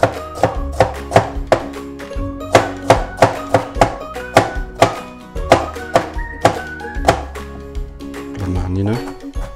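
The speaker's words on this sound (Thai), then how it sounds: "หั่นเป็นปลาซอย" Rapid knife chopping on a cutting board, thinly slicing garlic, a steady run of sharp close taps with background music underneath.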